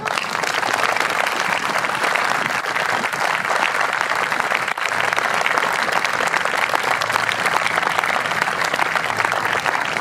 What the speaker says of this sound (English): we think it's those guys that deserve the real round of applause today